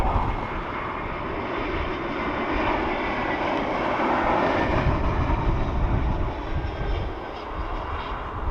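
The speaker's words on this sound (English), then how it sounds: "Lufthansa coming in from Frankfurt" Lufthansa airliner arriving from Frankfurt, a strong jet engine roar that builds and peaks midway as it passes fairly close, then eases slightly, continuous with no voices.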